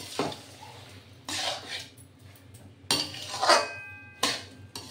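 Green mango sweet pickle being stirred in a pan, a few scraping, clattering bursts of utensil against metal spaced out over several seconds, fairly close, with a quiet background between strokes.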